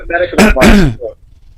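A single short cough from a man with a three-week cold, close and loud, with a brief voiced sound before it, then quiet.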